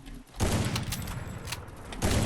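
Rapid gunfire bursts from a jumping player in the battle game Free Fire, dense crackling volleys repeating in quick clusters with a brief lull between them.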